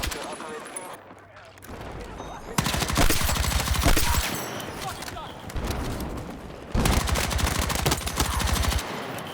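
Rapid automatic gunfire in the video game Battlefield 6, two long sustained bursts of fast, loud shots with a quieter stretch between them, and voices talking over the action.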